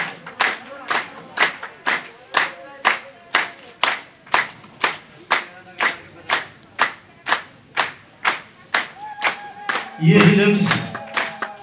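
Rhythmic unison clapping from an audience at an Ethiopian honoring ceremony, evenly spaced sharp beats continuing for about ten seconds before a voice begins speaking near the end.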